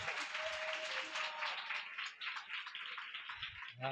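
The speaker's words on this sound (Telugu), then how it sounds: "దేవునికి ఒకసారి అందరం సంతోషంగా చప్పట్లు కొడుతూ మహిమ చెల్లిస్తారా?" A church congregation clapping in praise, a fairly quiet, even patter of many hands heard from a distance, with a brief low tonal sound near the end.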